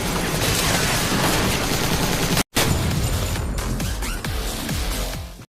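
Assault rifle fire rings out in a film shootout, with dense bursts of loud, rapid shots, a brief cut to silence and then more volleys that trail off.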